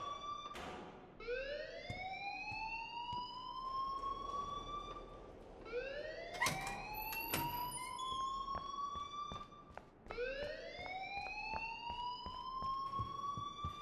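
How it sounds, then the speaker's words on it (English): An alarm in the Life is Strange video game wails as a rising siren-like sweep that repeats three times, each tone climbing and then holding, loud and continuous with sharp clicks between the cycles. "please turn off that alarm"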